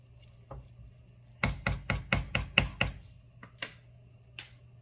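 A wooden spoon knocks against a pot of vegetable gumbo as it is stirred: a quick, even run of about seven close, sharp clacks, then a few looser taps. No talking.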